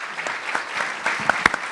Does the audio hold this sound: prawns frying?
no